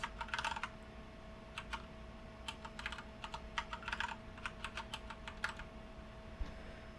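Keys clatter on a computer keyboard set to the Dvorak layout, in uneven bursts of close, crisp clicks over a steady low electronic hum, with no voices.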